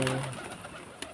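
A colorful pigeon gives a single short, soft coo at the start, then only a quiet room tone remains.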